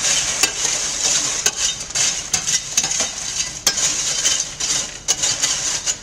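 Sugared kettle corn kernels being stirred back and forth in a Gold Medal popcorn kettle, a loud continuous sizzling rattle broken by repeated sharp scraping knocks of the paddle against the metal pot.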